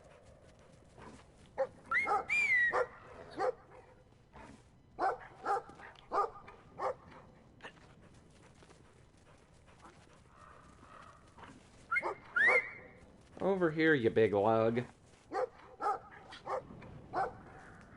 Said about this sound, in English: I want to pet that dog.